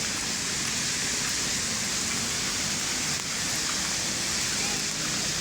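Steady rain falling at Manila Bay, a dense even hiss that holds unbroken throughout with no distinct drops standing out.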